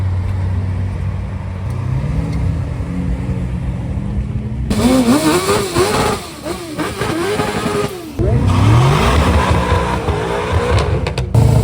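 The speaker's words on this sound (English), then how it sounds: "Now we have the Land Rover followed by the McLaren Senna" Two cars, a Land Rover followed by a McLaren Senna, drive up the Shelsley Walsh hill climb at a Gumball 3000 event. Loud engines rev hard and shift through rising, falling pitch sweeps as they pass close by, with no speech.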